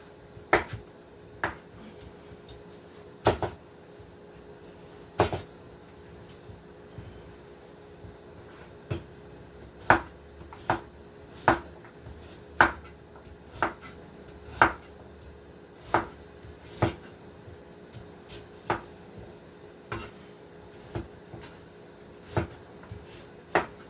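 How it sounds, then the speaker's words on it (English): A knife chopping food into bite-sized pieces on a cutting board while cooking sweet potato chicken stoup, sharp distinct thuds about one every second or two, close and clear in a quiet kitchen. "I'm just going to be chopping this into bite-sized pieces, so I just chopped it in half."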